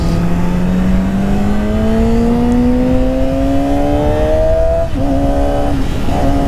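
A motorcycle engine pulls steadily higher in pitch as the rider accelerates through a gear, then drops sharply at a shift and climbs again, loud and close against continuous wind rush.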